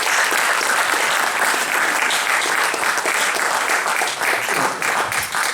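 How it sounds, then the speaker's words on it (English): A loud, sustained round of applause for a brass quintet, dense crowd clapping filling the room without a break from start to finish. "one more round of applause. These guys good."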